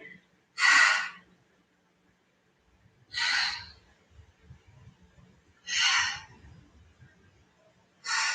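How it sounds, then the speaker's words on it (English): Deep breaths during a Pilates exercise: four slow, loud, breathy inhales and exhales come at regular intervals of about two and a half seconds, close to the microphone, with quiet gaps between them. "Continue with that nice deep breathing."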